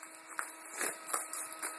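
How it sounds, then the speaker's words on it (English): A pile of stone flakes after heat treating in a kiln, clinking and chinking in several quick, light, bright taps at close range, with no talk. "if you ever hear any clinking going on inside your kiln that might sound kind of like this pile of flakes right here"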